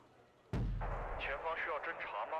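A single heavy artillery shot in a video game booms out sharply and loud, its low rumble trailing off while a voice talks over the tail.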